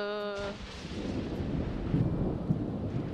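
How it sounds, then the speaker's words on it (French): A thunderstorm in a farming video game rolls in as a crash of thunder, then settles into steady rain hiss with low rumbles and soft rustling throughout. "D'accord, l'orage."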